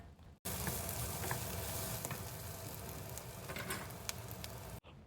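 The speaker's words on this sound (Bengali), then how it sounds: "এগুলো কিছুটা ফ্রাই হয়ে গেছে" Spices sizzling and frying in a pan while Maggi noodles are being made, a steady, dense crackle that runs almost the whole time with no talking.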